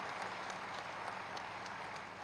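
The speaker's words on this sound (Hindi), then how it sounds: "एक बार जोरदार तालियों के साथ स्वागत सत्कार" A crowd at a public ceremony in Saharanpur gives loud applause welcoming the Chief Minister: a dense, steady wash of many hands clapping, even in level throughout, with no pause.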